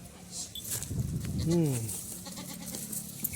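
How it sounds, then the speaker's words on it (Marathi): A goat bleats once, a wavering nasal call in the middle, with people talking around it and faint outdoor noise. "तो बघा अतिशय जातीवंत शेळ आहेत"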